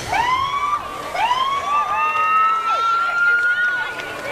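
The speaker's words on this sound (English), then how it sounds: "the only time you like to see the flashing lights and hear the siren is in a parade" A police car siren in a Fourth of July parade wails loudly and close, rising and sweeping in repeated cycles over a steady drone of traffic.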